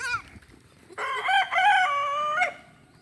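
A rooster crows once in a long, clear call, heard at moderate distance over quiet farmyard background, with no talking.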